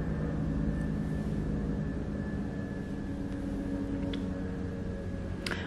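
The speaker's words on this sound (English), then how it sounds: "there's a big helicopter going above my house." A large helicopter drones loudly overhead for several seconds, steady and unbroken, with no one speaking.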